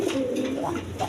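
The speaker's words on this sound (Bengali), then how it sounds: "এক পেয়ার কবুতর আছে, দেখেন রাসগোল্লা কবুতর" Rasgolla pigeons, a pair, give a continuous soft cooing nearby, low and rolling with a slight rise near the end.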